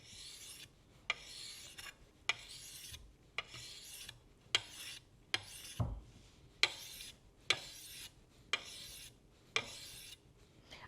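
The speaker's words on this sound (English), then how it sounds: "I'm using the flat side of the sharpening stone this time" The flat side of a sharpening stone rasps across a flat garden tool blade in even, unhurried strokes, about one per second. Each pass is a close, dry scrape with a small click where it starts, and nobody speaks.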